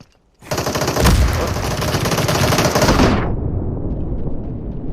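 Sustained MP5 submachine gun fire in the online shooter Super People, a loud unbroken automatic burst lasting about three seconds up close, then trailing off into lingering echo with no talking.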